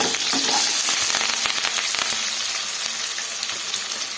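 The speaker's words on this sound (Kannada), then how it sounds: "ಈಗ ಹಸಿಮೆಣಸಿನ್ಕಾಯಿ ಸೇರಿಸ್ಕೊಳ್ಳೋಣ. ಸೇರಿಸ್ಕೊಂಡು ಈ ಥರ ಫ್ರೈ ಮಾಡ್ಕೊಳ್ಳೋಣ." Green chillies, curry leaves and onion frying in hot oil for jeera rice and dal tadka, a loud continuous crackling sizzle with scattered sharp pops and stirring scrapes throughout, no talk.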